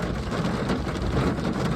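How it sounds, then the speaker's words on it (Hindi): Steady rain falls by a roadside where a car has stopped with a punctured tyre, a dense broadband hiss of drops on surfaces, continuous and fairly loud with no voices. "अब बारिश हो रही है"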